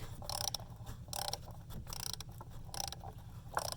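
A ratchet loosens an oil pressure sensor on a Chevy/GMC truck, giving short bursts of quick mechanical clicking in a few separated runs, close and fairly quiet, with no talk.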